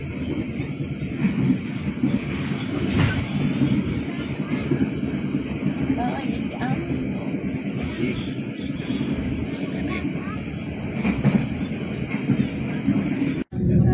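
KA Pasundan passenger train near Manonjaya station, approaching the Cirahong bridge, makes a steady loud rumble and roar of wheels on rails, heard from on board throughout with a few faint clicks.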